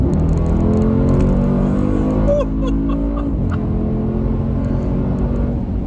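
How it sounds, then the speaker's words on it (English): Mercedes-AMG G63 SUV accelerating, a loud, close, deep engine drone with rising harmonics, easing briefly mid-way before pulling again, heard from inside without speech. "Now as for the acceleration of the AMG version."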